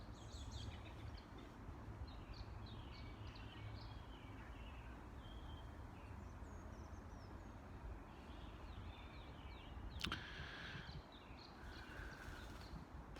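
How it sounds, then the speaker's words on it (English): Birds sing and chirp in a garden of trees and plants, many scattered calls at middle distance over a steady outdoor background hum, with one sharper, louder call near the end. "The sounds of the birds"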